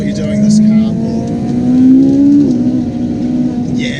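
A Ferrari 458 Italia engine revs hard on a wet track, its loud, steady note climbing in pitch through the middle and then dropping back, close and continuous throughout.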